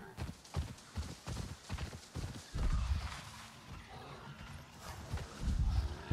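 Horse hooves clip-clopping in Avatar: Frontiers of Pandora, in an uneven walking rhythm, close and fairly loud, continuing throughout with a few pauses.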